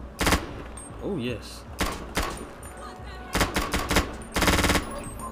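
Short bursts of automatic fire from a micro SMG in a video game with a realistic gun sound mod crack out in several separate rapid volleys, loud and close, with someone briefly speaking between them.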